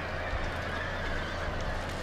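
Massed horses neigh and whinny over a dense clip-clop of hooves in a huge cavalry charge of 6000 riders against long yari ashigaru spearmen in the video game Shogun 2. The din is loud and continuous.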